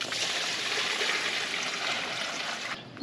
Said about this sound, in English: Just sprinkle it in the top pan and then dump in the water.